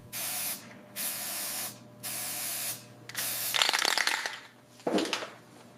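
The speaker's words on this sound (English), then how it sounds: "Contact cleaner." Contact cleaner from an aerosol can is sprayed onto electrical connector ends during a 1960s Mini Cooper S restoration: three evenly spaced hissing bursts, then rustling and clicking handling noises and a final short spray, close and clear.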